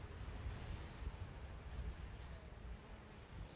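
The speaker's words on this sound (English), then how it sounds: "freezing, is the driving wind and rain" Steady, loud wind buffets the microphone as rain lashes sideways at a kart circuit near the Adriatic coast of Italy during a junior kart race, a dense rumbling roar with no voices.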